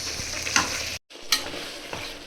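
Tomato and curd sautéing in a pan for mutton biryani, a close steady sizzle with a couple of scraping stirs, briefly cut to silence midway before the frying resumes.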